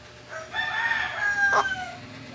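A native chicken rooster crows nearby, one drawn-out cock-a-doodle-doo rising and falling over steady background noise.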